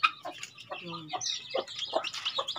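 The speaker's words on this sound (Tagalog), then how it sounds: "Aking alagang native na manok." Native chickens kept on a rural provincial farm cluck and chatter nearby in short, irregular bursts, with a few sharper squawks mixed in.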